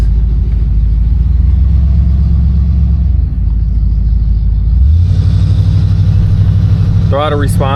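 A 1969 Oldsmobile Delta 88's engine runs with a deep steady rumble, then rises in pitch and loudness as the throttle is blipped, heard up close and loud, with a voice briefly at the end.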